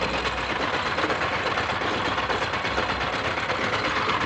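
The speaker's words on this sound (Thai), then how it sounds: "อันนี้เครื่องเจาะ" A hydraulic drilling rig runs steadily while preparing to bore a groundwater well in rural Laos, a dense continuous engine drone with a rough rattling texture, loud and close, no talking.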